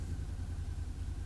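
BMW G310R motorcycle idling: a steady low engine rumble held evenly throughout, fairly close and moderately loud, with no voices over it.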